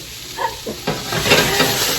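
Butter sizzling as it melts in a hot pan for seared tuna, a bright crackling hiss that swells midway, with a few soft knocks of utensil against pan up close.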